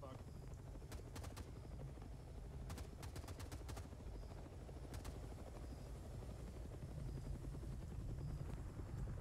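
A Hind attack helicopter flying in Arma 3 on Tanoa, its steady rotor thump and engine drone running continuously and fairly distant, with a few sharp clicks over it.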